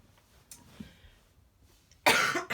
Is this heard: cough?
yes